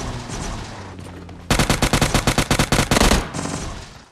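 Rapid automatic gunfire in PUBG Mobile Lite during a squad rush match: one loud, sustained burst of closely spaced shots after a quieter stretch of game ambience, with no talking.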